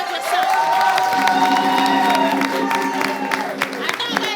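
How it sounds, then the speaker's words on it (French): A studio audience on a French-language variety game show cheers and applauds loudly after a contestant's timed feat, with whoops and shouting over clapping and a voice carrying above the crowd. "Est-ce qu'on peut applaudir ça?"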